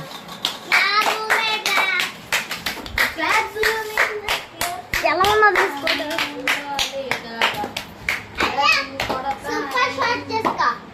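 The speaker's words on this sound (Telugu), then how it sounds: "క్లాప్స్ కొట్టండి అందరు." A group of children clapping their hands in scattered, uneven bursts, with kids talking and calling out over and between the claps.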